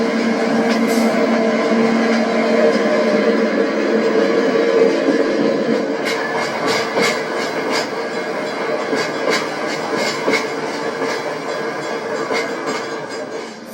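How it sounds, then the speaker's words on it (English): Steam locomotive 3751 passes the abandoned Riverside Depot on its way to San Bernardino, a loud sustained rumble with a rapid run of rail clicks as the cars roll past. "the train passes the now-abandoned Riverside Depot on its way to San Bernardino"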